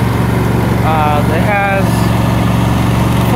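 A Husqvarna YTH22V42 riding lawn mower engine runs steadily and loudly up close, a constant droning hum throughout, with someone talking briefly over it.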